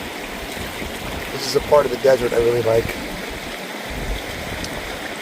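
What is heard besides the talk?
creek flowing along the hiking trail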